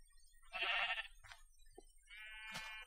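Two short bleats from a sheep in the Minecraft video game, a nasal, wavering call followed by a second after a brief pause, clear against a quiet background.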